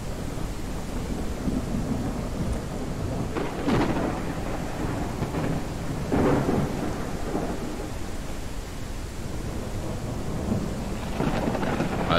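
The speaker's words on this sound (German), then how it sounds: "Jetzt zieht hier ein Unwetter auf, wo sich das wieder alles anhört wie Schüsse." Steady rain hisses throughout while several rolls of thunder rumble in and fade, loud and enveloping, with no voices, in the video game No One Survived.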